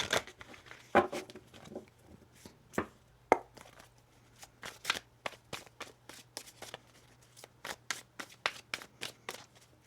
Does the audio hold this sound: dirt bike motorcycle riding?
no